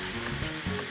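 Meat sizzles and crackles steadily in hot vegetable oil in a pan for Korean-style funchoza, a dense close frying hiss with no voices.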